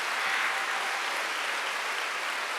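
Church congregation clapping hands at a Korean Wednesday worship service, a steady, even wash of clapping at moderate level throughout.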